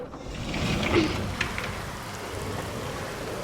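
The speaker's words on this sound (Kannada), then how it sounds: "ಜೋರು ಮಳೆ" Heavy rain falls outdoors in a steady, broad wash of noise, moderately loud and fairly distant, with a slight swell near the first second.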